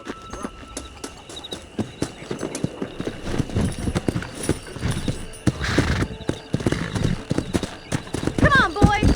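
Horses gallop in Red Dead Redemption, their hooves beating a quick, steady clip-clop close by, with an occasional whinny and voices mixed in.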